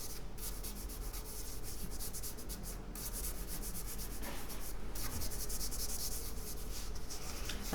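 A charcoal stick tilted sideways rubs across paper while an eye is being drawn, making a continuous close, dry scratchy hiss with slight changes in stroke.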